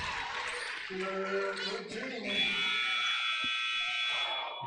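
A game-ending buzzer sounds at a high school boys' basketball game, Bear River at Green Canyon, as a sustained blaring tone over crowd noise while a commentator talks.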